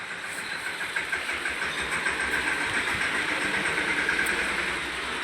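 A tractor carrying a cupboard on its rear lift arms passes on a village road outdoors, its engine a steady, moderately loud chugging rumble with no talk.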